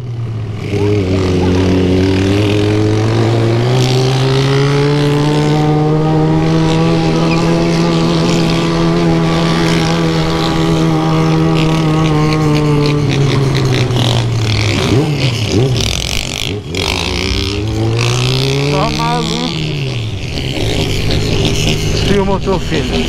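A Yamaha XJ6 motorcycle with a straight-through exhaust revs hard nearby, its engine climbing, holding high, then dropping and rising again in sharp bursts, with voices and shouts over the noise.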